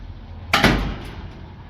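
A door on a 1929 Cadillac Transformable under restoration shuts with a single sharp thud and a short rattling decay, close by in a quiet workshop.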